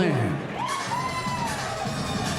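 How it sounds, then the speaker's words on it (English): Loud crowd noise at a combat sports fight, a steady roar of cheering and shouting from a large audience under a voice. "The crowd is quite loud, so nobody could hear the bell there"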